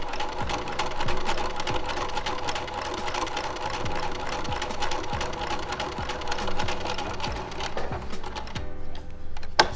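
A sewing machine stitches a Hong Kong seam in the ditch, humming close with a rapid, even needle clatter. It runs steadily alone and winds down near the end.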